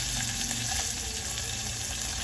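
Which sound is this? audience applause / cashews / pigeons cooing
cashews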